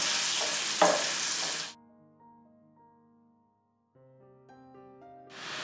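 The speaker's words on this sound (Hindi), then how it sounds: "लहसुन अदरक की पेस्ट शामिल करूंगी और इसे भी 1 मिनट के लिए सौटे कर लेंगे" Garlic ginger paste sizzles in hot oil for a shahi chicken kofta curry, a loud broadband frying burst for the first stretch that cuts out into quieter tonal hum before the sizzle returns at the end.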